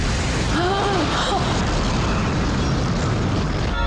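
Starship Enterprise exploding in Star Trek III: The Search for Spock, a loud continuous roaring rumble with crackling debris that fills the whole stretch, a brief whooshing streak near the start, sustained and dense to the end.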